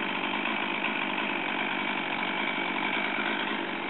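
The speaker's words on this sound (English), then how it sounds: "Gotta get that chainsaw out of there." A chainsaw runs steadily during tree felling, a continuous loud mid-pitched engine drone holding an even level throughout with no breaks.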